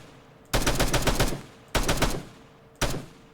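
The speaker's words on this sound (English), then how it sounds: "let's get in the gunner and I'll just shoot the house" Three loud bursts of automatic gunfire from a vehicle gunner seat in Arma 3, fired at a house, each sustained volley lasting about a second with short gaps between, close and alone with no voices.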